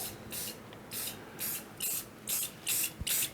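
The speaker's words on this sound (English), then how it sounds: "I'm spraying at an angle." Short hissing bursts from a spray paint can repeat in a steady rhythm, seven quick sprays close by with brief pauses between them, applied at an angle to a rock-faced sink edge.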